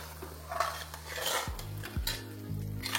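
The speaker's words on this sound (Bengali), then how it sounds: "চিকেনটা দেওয়ার পরে এটাকে ভালো করে একবার মিশিয়ে নিন।" Chicken is stirred into pulao in a pot, with metal utensil scrapes and clinks against the pot over a low sizzle and a steady background hum, nearby and without voices.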